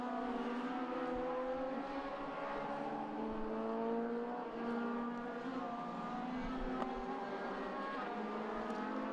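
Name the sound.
Legends race car with motorbike engine racing past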